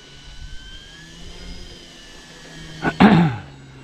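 An H-King Tiger Moth 1400mm RC model biplane flies overhead, a faint motor whine drifting in pitch at a distance, followed by a brief, louder gusty burst near the end.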